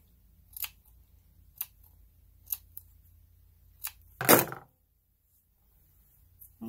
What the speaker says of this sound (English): see if you trim a little bit of the fur away. Don't go too far. Only about 1/8 to 1/4 of an inch is needed to cut off.